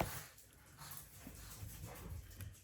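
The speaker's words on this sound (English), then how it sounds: "I hear dogs coming down" Dogs coming down toward a room during a craft session, a faint, distant whimpering and panting under a noisy background, with no clear barks.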